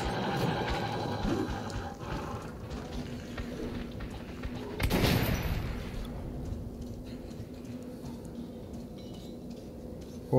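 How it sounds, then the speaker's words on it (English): A single close-range shotgun blast in Metro 2033 Redux, one sharp loud burst standing out midway over a low, continuous ambient rumble. "one shotgun blast sure took that thing out from close distance, didn't it?"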